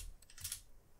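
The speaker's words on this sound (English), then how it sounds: "type in the new tune, which is" Quick, faint taps on a computer keyboard while a tune code is entered in Forza Horizon 5, a short cluster of soft clicks that fades into quiet room noise.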